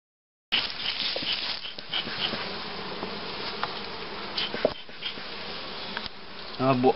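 A dense, close buzzing of many honeybees around a hive carries on continuously, with a few sharper clicks and knocks near the end.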